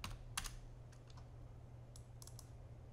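Quiet clicking of computer keys, a few short bursts of typing separated by pauses, close and faint over a low steady hum, with no talking.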